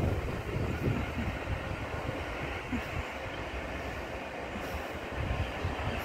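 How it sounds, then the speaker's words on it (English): A train rumbles steadily past with a continuous rolling roar and some wind buffeting the microphone, no voices. "Off goes the train."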